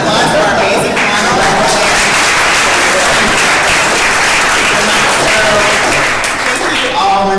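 A loud, sustained round of applause from an audience for a panel at a startup event, many hands clapping in a continuous dense wash with some chatter mixed in.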